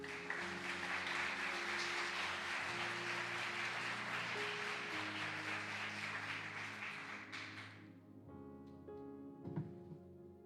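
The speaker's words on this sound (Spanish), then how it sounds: "Dale un aplauso al Señor." Church congregation applauding during a Spanish-language service, a long, dense roll of clapping over sustained organ or keyboard chords, fading out after about eight seconds while the music carries on.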